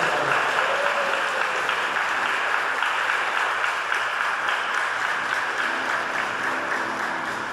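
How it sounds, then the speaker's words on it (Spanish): Congregation at a baptism service breaks into loud, continuous applause that fills the church, dense and even for several seconds. "Damos un fuerte aplauso a todos los demás."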